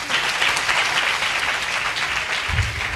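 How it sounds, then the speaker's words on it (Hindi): A church congregation claps together, a dense burst of many hands applauding at close range for a few seconds, with a low thump near the end. "ताली बजाओ प्रभु के नाम पे"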